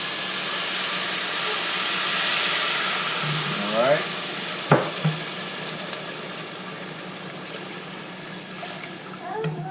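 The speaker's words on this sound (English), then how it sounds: "when you pour this in there, you want to watch out because the steam's going to come up a little bit" Water is poured into a hot pan of browned rice for Mexican rice, giving a broad steady hiss of steam and sizzle, with a few clinks of utensils and brief speech partway through.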